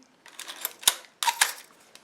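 Canon EXee film camera firing its shutter at a slow speed of about an eighth of a second, giving a soft whirring mechanical run broken by two sharp clicks, close and quiet.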